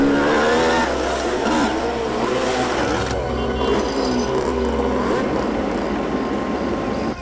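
Several bikers' motorcycles arrive together, engines droning and revving loudly and close by with a strong low growl that eases after a few seconds.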